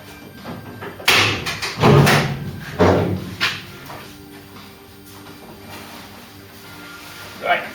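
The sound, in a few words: Mk3 Ford Cortina door being taken off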